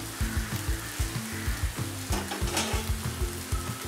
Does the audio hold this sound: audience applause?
no